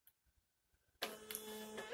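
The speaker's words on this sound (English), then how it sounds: "Over to my printer. And the label's printed." A Dymo 4XL label printer starts printing a shipping label after a second of faint clicks, then runs with a close, steady mechanical whir to the end.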